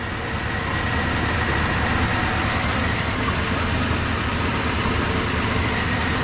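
A 1967 Dodge Dart engine idles steadily and loudly at close range, a continuous low rumble with no talking over it.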